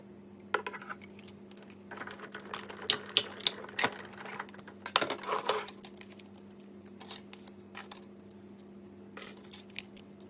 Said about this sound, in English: So we're going to bring the Big Shot in. We're going to cut out all these elements.